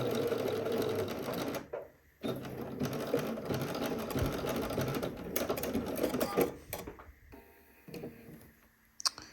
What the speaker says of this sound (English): I'm just going to sew right to this last pin here.